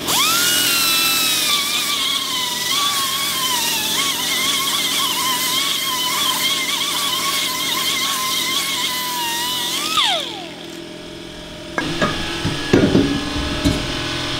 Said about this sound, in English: So we get a whiz wheel out, clean these off a little bit.